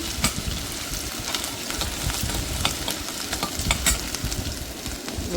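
Chopped ginger sautéing in a pan for a salted mango pickle, a steady close sizzle with scattered crackles and stirring scrapes, no voices.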